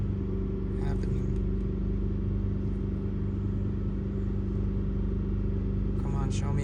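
A Kia Sorento engine idles steadily with a low, even rumble, being watched for a misfire while the system runs too rich at idle; the hum stays constant throughout with no clear stumble.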